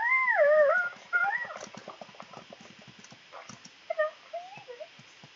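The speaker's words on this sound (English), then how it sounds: "Did I just hear a little puppy whine?" A small dog whines in rising, howl-like cries at the start, near and fairly loud, then a few shorter whimpers follow later over soft hoof-like clopping and faint background noise.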